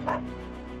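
A single dog bark in the PS2 video game Dog's Life: one short, sharp woof near the start, trailing into a steady tonal hum, with no talk over it.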